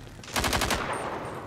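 A rapid burst of about six automatic gunshots in the video game GTA 5, loud and close, followed by a fading tail.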